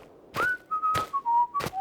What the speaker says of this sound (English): Dennis waited, whistling.